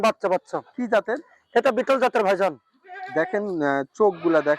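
Dairy goats at a goat farm bleat loudly and close by, a rapid series of wavering, nasal cries with short pauses between them.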